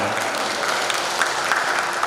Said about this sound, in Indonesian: Tepuk tangan dulu untuk Sampang